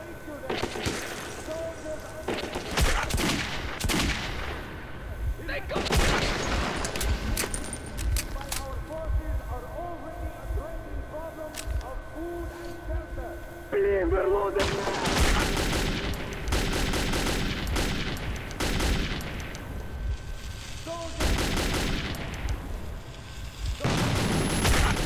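Gunfire in the shooter Metro 2033, with bursts of loud, close shots in clusters separated by quieter stretches of ambient rumble and low drones, plus tonal game sounds in between.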